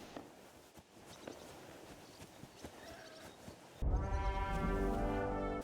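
Horse hooves clip-clop at a steady walking pace in Kingdom Come Deliverance II, close and moderately loud, before a sudden swell of louder game music takes over the last seconds.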